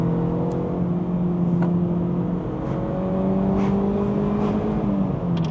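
A Mazda MX5 engine pulls steadily, a sustained droning hum with slowly rising pitch that holds loud and continuous throughout, with faint ticks above it.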